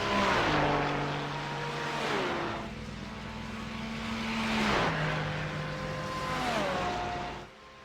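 GT3 race cars roar along the Road America straightaway, several loud engine notes rising and falling in pitch as they pass close by with gear changes, over a steady broadband rush.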